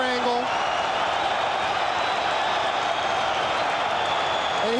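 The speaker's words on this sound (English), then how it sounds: "The crowd is chanting between rounds." Arena crowd at the Evander Holyfield vs George Foreman boxing match roaring between rounds, a dense, steady wash of cheering and chanting at even loudness, with a commentator's voice over it.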